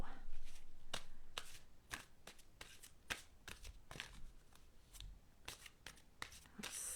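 Angel cards being shuffled by hand: a quick series of crisp, papery flicks and riffles close to the microphone, irregular in rhythm, with a faint voice in the background.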